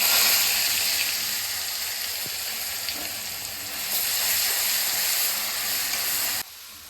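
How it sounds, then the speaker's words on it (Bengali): Garlic paste and whole cumin, garam masala and bay leaves sizzling in hot oil, a loud steady hiss of frying close up that cuts off abruptly near the end. "এখানে 2 চামচ রসুন বাটা নিয়েছি, দিয়ে দিচ্ছি তেলের মধ্যে।"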